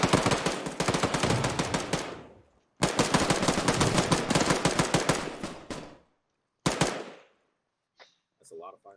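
Rapid automatic gunfire in the military video game ArmA 3 rattles in two long, loud, close bursts and one shorter burst, followed by faint fragments of radio-like voice.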